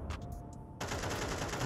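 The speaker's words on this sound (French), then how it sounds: "Il a fallu beaucoup de balles là du MP9 pour le tuer" Rapid bursts of MP9 submachine gun fire in a first-person shooter video game, a few sharp shots followed by a sustained loud stream of close automatic fire.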